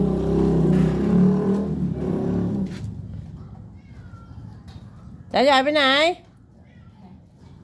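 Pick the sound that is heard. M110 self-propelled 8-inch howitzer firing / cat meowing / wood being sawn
cat meowing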